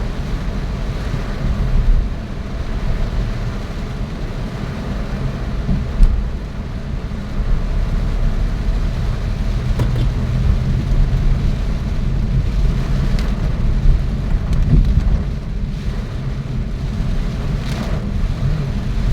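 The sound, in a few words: heavy rain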